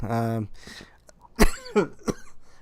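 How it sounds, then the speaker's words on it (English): A voice trails off, then a couple of sharp, close coughs follow with brief throat-clearing sounds between them. "I just coughing up a little bit here."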